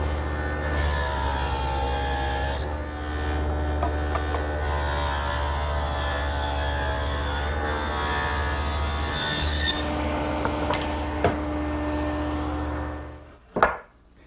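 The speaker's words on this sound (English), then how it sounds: "The next step is to make a groove along the bottom of all the rafters." A power tool drones steadily and loudly while a groove is cut along the bottom of wooden rafters for a greenhouse frame, with the tone shifting slightly as it moves through the wood, ending in a sharp knock as it stops.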